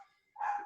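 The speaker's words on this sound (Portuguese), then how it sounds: "o cachorro do vizinho começou a latir" A neighbour's dog gives a single short bark at a distance, clear against a quiet background, after a faint fading sound.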